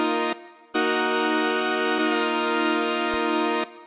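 Bright saw wave synth chords in FL Studio with one note sliding in pitch into the next chord, a brief gap early on, then a long sustained loud chord that stops suddenly.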